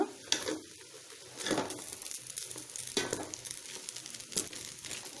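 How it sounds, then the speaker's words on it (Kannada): Buttermilk upma being stirred in a pan over a low flame, a soft steady sizzle broken by scraping strokes of the spoon every second or so, close and fairly quiet with no talking. "ನಾನು ಸಿಮ್ ಫ್ಲೇಮ್ನಲ್ಲಿ ಬೇಯಿಸಿ ಚೆನ್ನಾಗಿ ಮಿಕ್ಸ್ ಮಾಡ್ಕೊಳ್ಳೋಣ"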